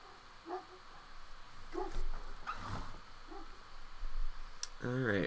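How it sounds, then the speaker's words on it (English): A dog gives a few scattered, muffled barks and yips in the background of a home office while someone works on code, the calls sparse and fairly distant, with a short burst of speech near the end. "I apologize for the dog barking."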